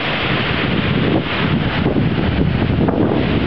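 Strong wind gusts during a May 2010 tornado roar steadily across the microphone, a heavy, unbroken rushing buffet with no voices.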